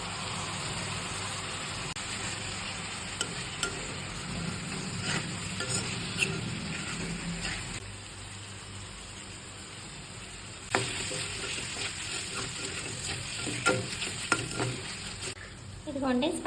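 Spices for a chicken pasta fry in a pan with a continuous close sizzle and soft scraping stirs, loudest early on and easing somewhat midway, broken by a few sharp clinks of utensil against pan.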